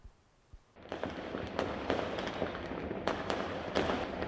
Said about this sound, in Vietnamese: Quan sát trực tiếp cho thấy pháo có tiếng nổ khá to.